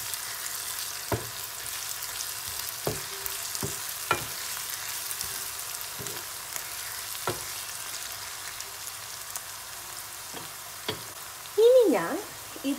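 Chilies for chicken curry fry in a pan with a soft continuous sizzle and scattered stirring clacks, plus a brief squeaky scrape near the end, with no talking.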